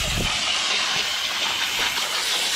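A water spray rinses the condenser coils of a Lennox A/C unit with its panels removed, a steady close hiss running throughout without a break.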